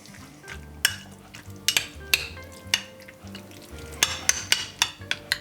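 A spoon stirs sea bream tartare with coconut milk in a bowl, giving repeated sharp scrapes and clinks over a wet, sizzling-like mixing texture, close and irregular, with no voices.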